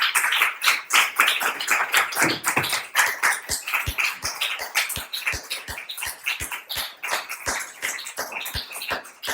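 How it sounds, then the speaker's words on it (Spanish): Congregation clapping together in worship at a church service, a fast, steady run of hand claps from a group that continues without pause for several seconds. "¿Qué te parece si le das una adoración a Dios con un aplauso?"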